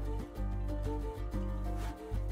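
Quiet instrumental music from the game FAR: Lone Sails, with sustained tonal chords and soft rhythmic pulses, playing alone at low volume.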